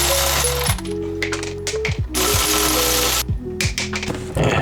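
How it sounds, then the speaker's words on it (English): Ratchet or impact tool working the wheel nuts on a Mazda Miata, loud close mechanical whirring and clicking in several uneven bursts with brief gaps, no speech. "let's get this tire off and get to work"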